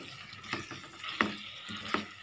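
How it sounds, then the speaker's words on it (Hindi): A couple of spoonfuls of water going into an eggplant curry in a pan, with several soft splashes and stirring clinks, brief and close, no talking. "मैं तो इसमें थोड़ी 2 छोटी चम्मच पानी डाल दिया है और इसको अच्छे से मिक्स कर देती हूँ।"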